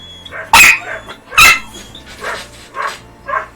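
A dog named Denny barks indoors, a few sharp, loud barks with softer yips and whimpers in between, close by with no talk.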